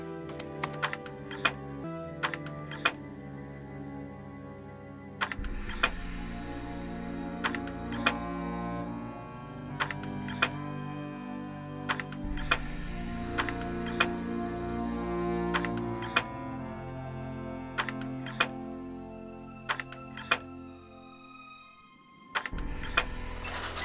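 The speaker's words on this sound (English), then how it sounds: "I kind of just started mindlessly clicking and I did it" Mouse clicks while solving a puzzle in the Nancy Drew game Message in a Haunted Mansion: sharp, irregular clicks, some in quick bursts, over a soft sustained musical background.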